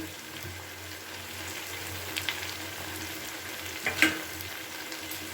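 Eggplant pieces frying in a pan with salt and turmeric, giving a steady, even sizzle with a few sharp stirring clinks near the end, no voices.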